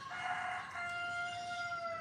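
A rooster crows in a long sustained call on a backyard farm where chickens and guineas are hatched and raised, loud and close with a steady drawn-out tone.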